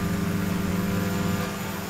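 Steady airliner engine drone inside X-Plane 11, a Boeing 787 in flight, a continuous low hum with a strong tonal core that holds evenly and dips slightly near the end, with no talk.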